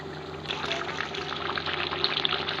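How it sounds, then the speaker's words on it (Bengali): Water poured into a pan of chicken kosha on the stove, a steady splashing trickle lasting a couple of seconds under a low background hum. "এবার অল্প একটু জল দেব।"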